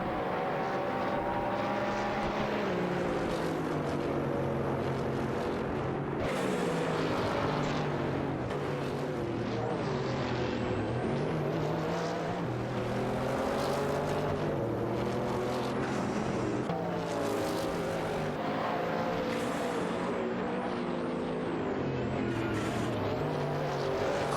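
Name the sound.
race cars racing in a video game, Lola and BMW V12 LMR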